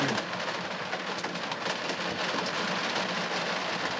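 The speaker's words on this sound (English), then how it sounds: "Listen to that rain." Rain falls steadily by a loch, a dense, even hiss with scattered patters throughout, no voices present.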